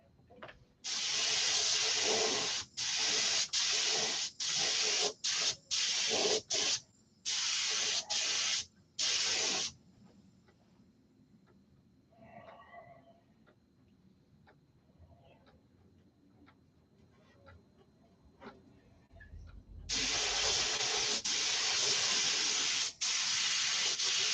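A spray gun hisses out heavily thinned paint for a touch-up job in loud bursts of varying length, rapid early on, then a long quiet pause before one sustained spray.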